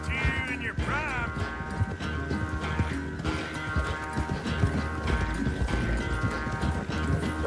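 Horse hooves clip-clop steadily and up close in Red Dead Redemption 2, a continuous rhythmic patter over an ambient game soundscape, with a brief whinny-like tone near the start.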